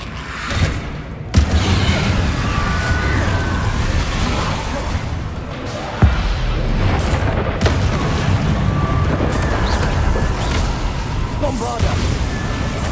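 Bombarda blasting spells going off in Hogwarts Legacy combat, a dense continuous wall of booming, rumbling impacts with a couple of sharper hits, loud and close, with a voice calling out amid the din.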